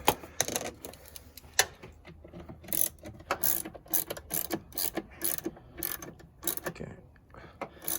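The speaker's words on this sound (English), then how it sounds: "I'm going to use a 12mm ratchet spanner to get the bottom one out" A 12mm ratchet spanner clicks in irregular bursts of sharp ratcheting, close up, while undoing the brake booster nuts on a Ford EF Falcon, with brief pauses between strokes and no talking.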